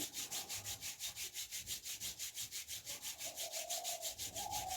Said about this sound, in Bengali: হাত দুটি আমরা এইভাবে ঘষে নেব